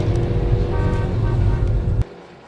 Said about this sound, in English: This is Protea Street, the main road, Friday morning traffic.